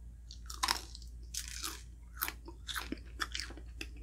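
Crispy bacon being bitten and chewed up close, a series of sharp, brittle crunches in irregular bursts over a quiet background, with no speech.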